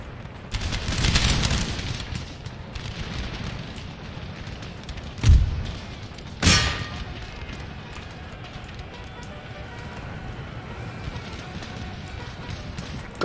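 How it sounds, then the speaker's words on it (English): Musket volleys crack out across an Empire: Total War battlefield, with two sharp, loud volleys standing out above a low, busy rumble of distant battle noise and scattered shots. "Now begin firing."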